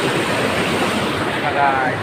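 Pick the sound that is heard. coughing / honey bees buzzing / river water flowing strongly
river water flowing strongly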